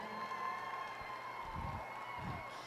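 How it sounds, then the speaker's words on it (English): Audience at a livestock show catch-a-calf event clapping and cheering for the second-place calf exhibitor, a steady crowd wash with brief bursts of louder cheering, moderately distant. "let's give him a round of applause as well"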